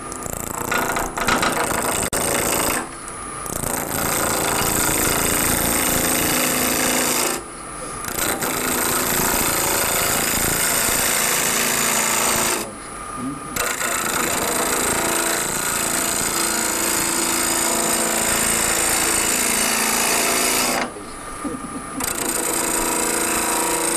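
A gouge cuts into elm wood spinning on a lathe, a loud continuous rasping roar that stops briefly several times, with no talk.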